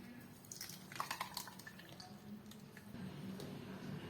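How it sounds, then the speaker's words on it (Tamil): Ground ginger juice strained into a kitchen vessel gives soft wet drips, squishing and trickles, close and quiet, with small splashy bursts and a faint steady background. "இதை நாம ஒரு பாத்திரத்துல வடிகட்டிக்கலாம்."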